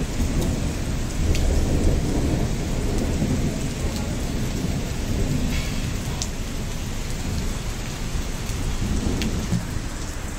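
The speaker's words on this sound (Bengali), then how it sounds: "প্রচুর জোরে বৃষ্টি হচ্ছে" Heavy, steady rain pours down at a hill-country stay near Siliguri, a dense continuous roar with low rumbling thunder rolling underneath and a few sharper cracks, loud and unbroken with no voices.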